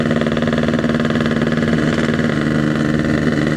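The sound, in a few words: RX King motorcycle engine running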